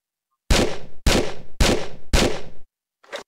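Four loud, sharp gunshots fire in steady succession about half a second apart in a Tomb Raider level editor game, each with a short decaying tail, followed by a fainter, brief metallic report.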